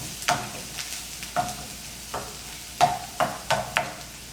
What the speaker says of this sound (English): I have some oil, coconut oil heated in the pan. I'm just going to be adding my onions.